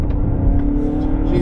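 A 2021 Mazda3 sedan's engine revs hard in manual mode, a loud, steady, close-up roar from inside the cabin that holds its pitch and rises slightly near the end.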